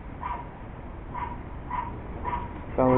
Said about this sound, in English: Sounds like there's a dog stuck in the tree.